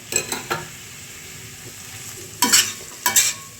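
Poppy seeds and white sesame are stirred in a dry pan for a smoky malai chicken curry paste: a spatula scrapes in quick close bursts, with pauses between strokes.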